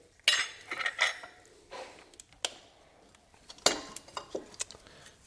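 Metal wrench clinking and scraping while a bolt is loosened and the idler pulley is pulled off a 2006 Chevy Impala engine beside the alternator; several sharp metallic clicks and clanks in uneven bursts, close and fairly quiet.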